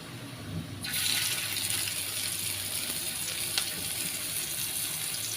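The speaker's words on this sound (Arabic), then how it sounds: "هنزل بالكفته على الجريل." Kofta goes onto a hot grill pan with oil. A loud, broad sizzle bursts in after a second and then holds steady and close to the end, with one small crackle partway through.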